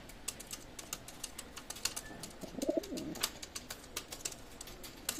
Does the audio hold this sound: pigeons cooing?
yes